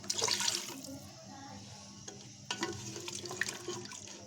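Water is poured from a mug into a cooking pot of goat meat and potatoes with yogurt, splashing loudly at first, then softer trickles and clinks as the pour finishes; no talk.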